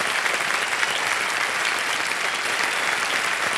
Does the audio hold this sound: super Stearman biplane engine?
no